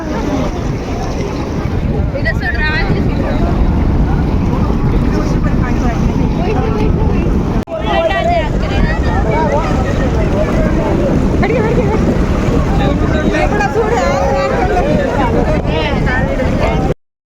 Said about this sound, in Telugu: ఇప్పుడైతే చాలా నీళ్ళు వస్తున్నాయి ఇక్కడ